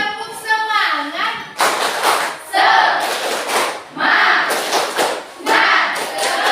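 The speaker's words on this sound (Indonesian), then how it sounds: "Tepuk semangat." Classroom of children doing a rhythmic spirit clap, loud patterned bursts of clapping in quick sets mixed with children chanting along.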